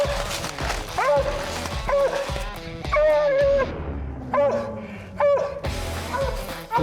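A hunting dog barks repeatedly at a raccoon treed in the woods, giving loud, close, drawn-out bawling barks in an uneven rhythm, with people's voices mixed in.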